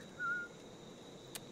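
A short, faint whistle in the video game Assassin's Creed IV: Black Flag, a single thin high note heard once over quiet ambient background, followed by a brief click.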